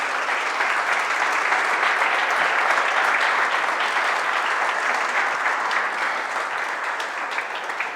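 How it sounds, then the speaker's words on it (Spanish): A church congregation breaks into steady, full applause, a dense continuous clapping that stays at an even level from start to finish with no voices rising above it. "Dale un aplauso al Rey, por favor"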